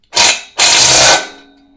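A wrench tightens the last bolt on a VEVOR 53 x 19 x 5 inch hitch cargo carrier, two loud close ratcheting bursts, a short one followed by a longer sustained one that trails off, with no talking.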